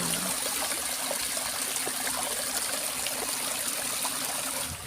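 Water runs steadily through a drainage channel among green rice fields, a continuous broadband rush and trickle that holds even throughout, fairly close, with no voices.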